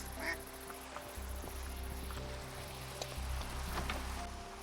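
Ducks in the video game Minecraft quack in short, scattered calls over a steady soft background hiss, without talking.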